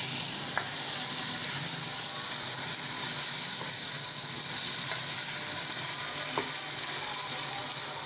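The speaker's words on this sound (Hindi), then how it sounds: "मसाला भून रहा है।" Masala for chicken korma fries in a pot, giving a steady hissing sizzle throughout with a few soft clicks of stirring, close and continuous, with no talking.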